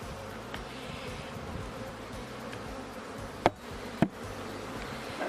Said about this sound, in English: And look at this really strong hive. Look at all the bees.